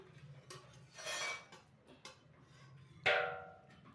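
A utensil scrapes and clinks against a kadai pan as food is stirred in a home kitchen, with a few soft scrapes followed by one sharp metallic clank near the end.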